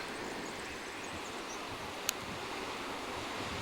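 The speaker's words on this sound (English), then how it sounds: "The water lapping up along the walls." Sea water lapping against the old stone harbour walls of Vernazza in the Cinque Terre, a soft, steady wash of small waves heard at low level with faint wind and no voices.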